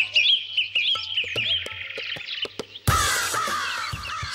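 Crows caw in a noisy rush, with harsh calls and chirps packed together, then a louder, denser burst of sound near the end.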